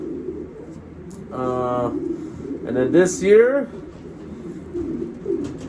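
A racing pigeon breeder hen gives a few throaty coos, close by, mixed with someone talking over a low background rumble.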